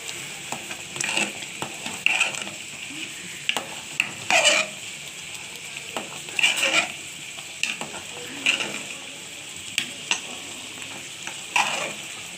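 Prawns fried in mutton fat get stirred in a pan, the utensil scraping and clattering in repeated bursts over a steady sizzle, close and fairly loud with no talking.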